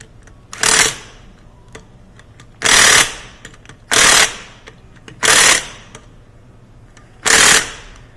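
An electric impact wrench fires five separate rattling bursts, each about half a second long, with short pauses between them, loud and close while mounting winter tires.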